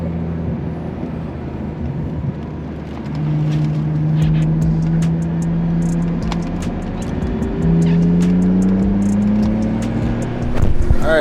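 BMW E46 race car lapping a track, its engine droning steadily with rising and falling pitch as it accelerates and shifts, loud and continuous with brief sharper transients.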